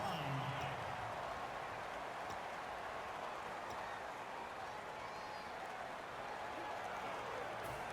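A steady, dense stadium crowd roar fills a Madden 17 American football game featuring the 49ers, holding an even level throughout with no clear peaks.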